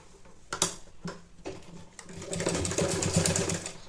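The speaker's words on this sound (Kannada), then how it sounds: "ಇಲ್ಲಿಂದ ಮೇಲ್ಗಡೆಯಿಂದ ಸ್ಟಿಚ್ ಹಾಕ್ತಾ ಹೋಗಬೇಕು" A sewing machine stitches a cloth baby saliva towel, with a few short bursts of needle clatter first and then a steady, louder run of rapid stitching close by.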